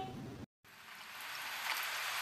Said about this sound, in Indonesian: kan beneran hujan aduh mana deras lagi hujannya